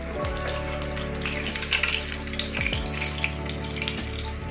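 Keema samosas fry in hot oil, a dense continuous bubbling sizzle held close and fairly loud, with a few brief knocks and clinks from the pan.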